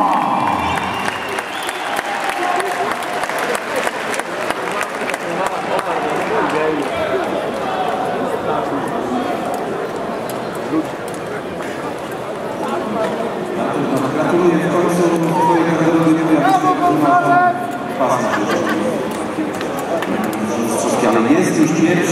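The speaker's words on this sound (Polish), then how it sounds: "Wielkie brawa" Crowd at a boxing event in Bydgoszcz applauding and cheering as Artur Szpilka makes his ring entrance, a steady loud wash of clapping and voices throughout, with an announcer talking over it.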